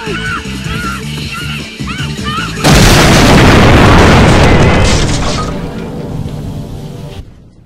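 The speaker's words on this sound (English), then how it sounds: "The logo exploded." Cartoon explosion effect as a logo blows up: a sudden loud broadband boom cuts over a cartoon soundtrack with voices, roars for several seconds, then fades and stops abruptly.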